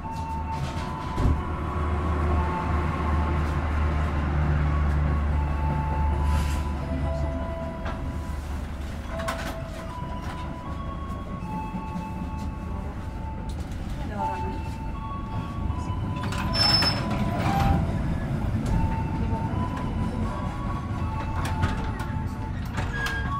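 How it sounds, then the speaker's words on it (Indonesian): KA Gajahwong passenger train running just after leaving Cirebon Prujakan station and turning right, heard from inside as a steady rumble with scattered clicks and knocks while a voice talks throughout. "Setelah berangkat dari stasiun Cirebon Perujakan ini, kereta Gajah Wong berbelok ke arah kanan ya"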